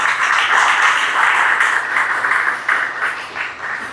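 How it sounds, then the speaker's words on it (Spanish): A church congregation claps loudly and steadily during a Spanish-language sermon, a full, continuous roar of applause that fades slightly toward the end. "Denle un aplauso al Señor."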